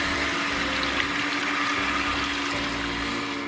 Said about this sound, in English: The backwash happening now.